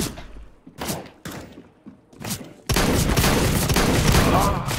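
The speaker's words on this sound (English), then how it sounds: "How did I miss all those shots? It's a shotgun." A shotgun fires in the video game CS:GO: several loud, booming blasts come in quick succession, then dense continuous gunfire takes over.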